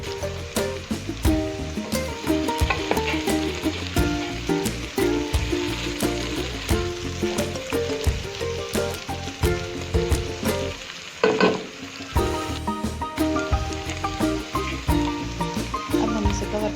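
Okra and onion fry in masala in a pan, sizzling steadily and loudly, with repeated scraping and stirring strokes from a spoon; no one speaks.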